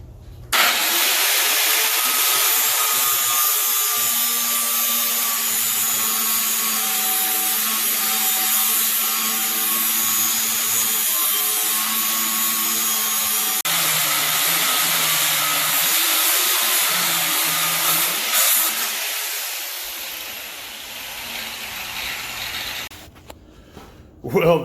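Steel cable being cut into short sections with a power tool, a steady loud grinding whine running continuously for about twenty seconds before tapering off, with talk over it.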